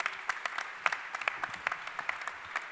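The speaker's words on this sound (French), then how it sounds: "On vous applaudit," Audience applauding at an award ceremony session, fairly light and distinct claps from a modest crowd, slightly distant and scattered across a few seconds.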